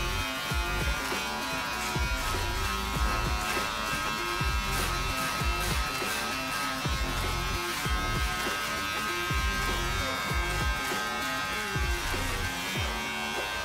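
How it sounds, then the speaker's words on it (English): An electric hair clipper buzzes steadily and closely while cutting hair over a comb during a barber's flat top haircut, a continuous droning hum held for the whole stretch. "we use the clipper over the comb"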